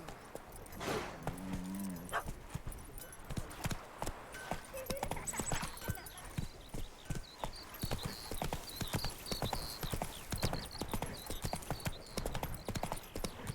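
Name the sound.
horse Roach hooves clip-clopping, video game The Witcher 3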